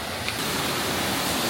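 A waterfall in the Cameron Highlands, a gentler cascade than others nearby, gives off a steady, dense rush of falling water that fills the short stretch evenly without letup.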